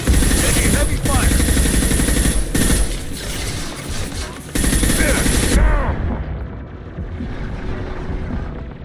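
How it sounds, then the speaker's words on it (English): Sustained heavy automatic gunfire in the Mass Effect 2 video game, dense rapid bursts with booming impacts for most of the span, then thinning to scattered shots and ambience near the end, with voices in the mix. "Taking heavy fire."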